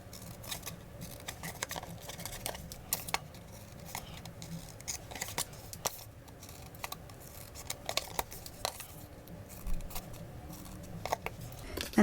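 Scissors snip V notches into scored paper for a stitched nested labels box, a steady series of small crisp cuts with light rustling of paper, close and quiet, no talking.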